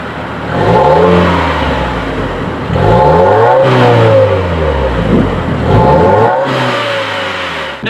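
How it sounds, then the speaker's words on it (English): A 2017 Subaru WRX with quad stainless steel exhaust outlets revs repeatedly, each blip rising sharply in pitch and falling back to idle, three or four loud close revs in succession. "here is the exhaust clip"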